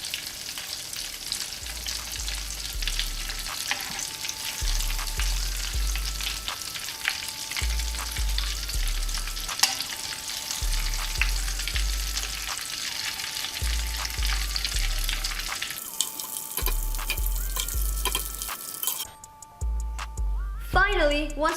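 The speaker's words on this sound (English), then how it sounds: "They're done deep frying." Steady sizzle of mac and cheese balls deep frying in oil fills the background, joined by regular rhythmic ticking and clinks, with a brief louder clatter near the end.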